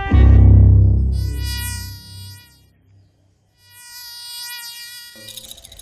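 A fly buzzes in a close, high whine that rises and falls in pitch, stops briefly, then returns, after a loud low thump at the start.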